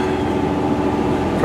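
A passenger train bound for Preston rumbles steadily around a listener near York, with a continuous low mechanical drone from the carriage and no speech.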